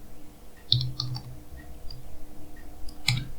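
Scattered keystrokes clack on a computer keyboard, a few sharp clicks in small bursts with quiet gaps between them, close and fairly soft.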